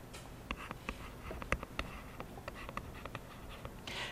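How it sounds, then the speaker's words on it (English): Pen writing down values for a physics unit conversion problem, a series of close, crisp scratches and taps in an irregular rhythm with no talking. "Write down what they gave me."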